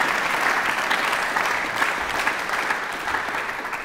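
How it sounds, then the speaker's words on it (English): Audience applause for an ensemble of musicians at the final of a concert competition, a dense, sustained wash of clapping that fades slightly toward the end. "And that's all the first applause for you now."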